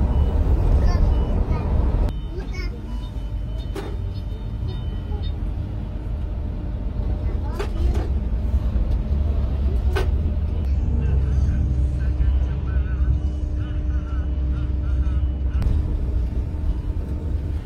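Steady low rumble and road noise inside a moving Sumber Alam electric bus on the Yogyakarta to Bekasi route, continuous and even throughout with a few brief knocks and rattles.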